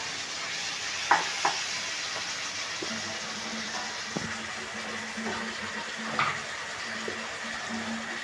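Sliced ridge gourd and potatoes frying in a pan, a steady soft sizzle running throughout with occasional stirring scrapes and clinks, close and moderately quiet.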